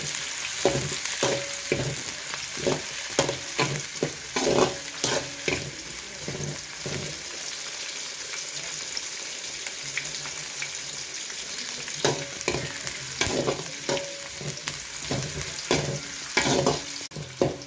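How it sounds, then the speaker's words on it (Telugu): Chopped onions and curry leaves frying in a pan for a Nellore fish curry, a steady loud sizzle broken by frequent stirring clatters and scrapes of a spoon against the pan. "ఎర్రగడ్డ, కరింపాకు 2 కలిపి వేస్తాము. అలా వేయించుకొని బాగా కొద్దిగా దూరంగా వేగిన తర్వాత"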